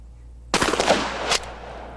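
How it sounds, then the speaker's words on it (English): A shotgun fires a rifled slug at a target 50 yards out: one sharp, loud blast with a brief rolling echo and a second crack-like burst trailing off, then quiet. "Here's what happens when you fire a rifled slug at 50 yards."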